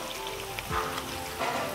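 Cloves and onion heating in a pan while cooking kuzhimanthi: a soft, even sizzle with light crackling pops, close and continuous, with no talking.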